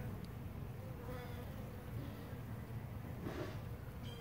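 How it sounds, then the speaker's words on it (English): A small bee buzzes continuously in a backyard, a thin steady drone that swells as it passes close near the end, heard over faint outdoor background. "Looks like a little bee."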